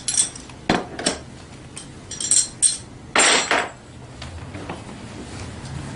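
Metal clinks and ratchet-like clicks from bolts being tightened during assembly of a Tao Tao 90 dirt bike, a series of short irregular taps and scrapes at close range, no speech.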